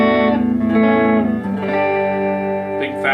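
Clean electric guitar chord ringing out on a Fender Player Strat's humbucker pickup through a Peavey Classic 30 tube amp, a full, thick tone with several strums sustaining and decaying alone.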